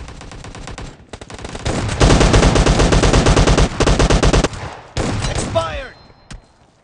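Rapid bursts of automatic and shotgun fire from an M249 and a shotgun in a team deathmatch video game, loud and dense, with short pauses between volleys and a brief voice near the end.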